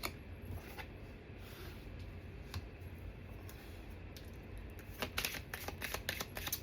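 Tarot cards are shuffled in the hands, giving a soft steady riffling that becomes a quick run of crisp flicks and snaps near the end, close by with no talk.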